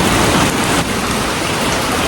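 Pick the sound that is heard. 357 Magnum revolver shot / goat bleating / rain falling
rain falling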